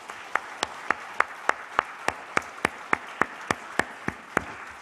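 A church congregation clapping in unison for Jesus' birthday at a Christmas Sunday service, about fifteen sharp, evenly spaced claps in a steady rhythm, moderately close, with a faint murmur underneath.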